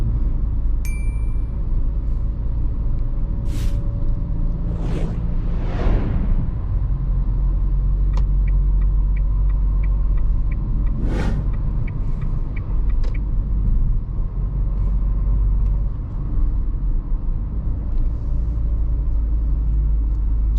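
A Dacia Duster SUV with a 1.3-litre 150 hp engine, EDC automatic gearbox and 17-inch wheels drives along, giving steady low road and engine rumble with a few faint clinks and a ding from inside the cabin.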